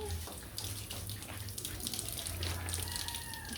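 Steady rush of shower water spraying close by during a dog's bath, continuous and hissing, with faint voices underneath.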